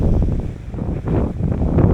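Wind blows straight into the face on a boat out fishing, a loud, continuous buffeting rush against the microphone with no voices.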